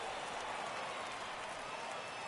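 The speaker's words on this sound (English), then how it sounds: "you can feel this crowd waking up a bit here" Baseball stadium crowd at a Braves–Phillies game in Philadelphia, a steady wash of applause and crowd noise, fairly distant and even throughout.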